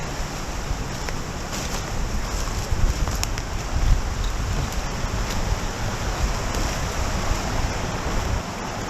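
Steady rushing water from a waterfall and creek at Dismal Creek in the Ozark National Forest, Arkansas, a broad continuous roar with slight gusty swells, no voices.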